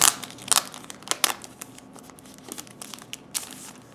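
Plastic sleeves holding Beatles albums crinkle and rustle as they are handled, in quick, close, irregular bursts of crackling with no talk.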